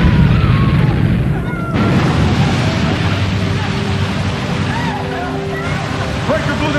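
A drainpipe blown apart by an explosion in an action film, a loud rumbling roar that keeps going with a rushing, sloshing wash of water under it.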